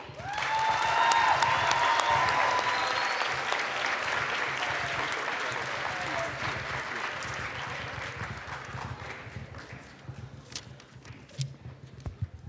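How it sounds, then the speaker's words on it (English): A large crowd at a youth conference applauds, yells and screams for an introduced guest, the dense clapping loud and sustained, with whoops and cheers rising over it before slowly thinning toward the end. "I want you to yell and scream and applaud"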